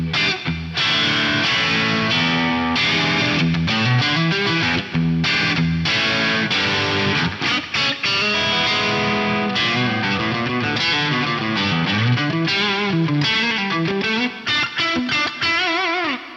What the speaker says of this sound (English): This is a basic live room style verb.